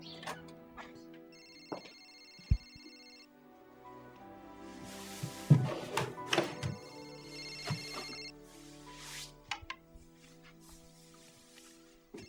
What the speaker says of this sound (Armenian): Լավ այդ հեռախոսի ձենը լսա